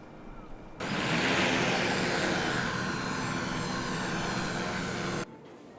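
A drone carrying the AirNavi sky navigation system flies during a test near Toba, Mie. A steady, loud whirring roar of rotors sets in abruptly, holds for several seconds, then cuts off.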